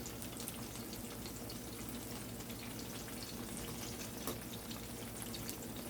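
Red herring fritters fry in a pan of oil with a steady, dense sizzle and crackle, loud and close, holding an even level throughout with a few sharper pops and no talking.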